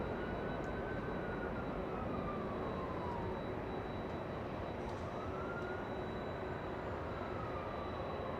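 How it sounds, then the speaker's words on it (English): Steady, loud roar of a United Boeing 737 MAX 9 airliner at Los Angeles International Airport, a continuous broadband jet rumble with a faint high whine and slowly shifting pitch. "That's United 311, a MAX 9 737."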